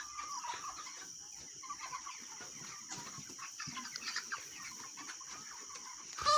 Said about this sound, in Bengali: মোরগ চারটে না না। ওই জন্যই মারামারি করছে।